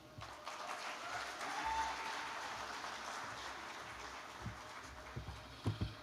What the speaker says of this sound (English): Please, can we give the gentleman another round of applause